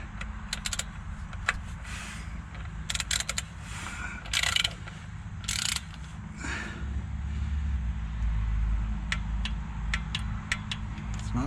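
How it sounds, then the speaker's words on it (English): Torque wrench drawing down bolts on the transmission of a Nissan Altima 2.5L CVT during a fluid and filter service, heard as scattered close mechanical clicks and creaks over a steady low hum, with no talking. "Okay, so I got my torque wrench. We're just going to tighten them down to 70."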